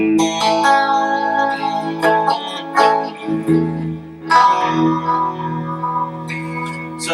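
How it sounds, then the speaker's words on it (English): Electric guitar chords ring out through an amp with lush chorus, echoing delay and reverb, notes shimmering and trailing into each other. "it's got some reverb, it's got delay built in and quite a bit of chorus"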